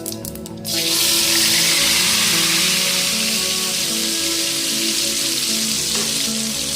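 Ground coriander chutney hits hot oil with tempered mustard seeds, setting off a loud, steady sizzle right after a short rattle of spluttering, the frying hiss holding close and constant to the end.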